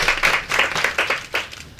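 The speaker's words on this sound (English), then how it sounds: "round of applause for Samantha." An audience claps in a round of applause at a panel discussion event, a steady patter of many hands lasting a couple of seconds with no talk.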